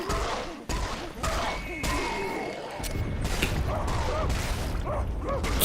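Gunfire in the shooter game Serious Sam 4, bursts of shots and crashing impacts with mechanical clanks in quick irregular succession, loud and busy with game effects layered together.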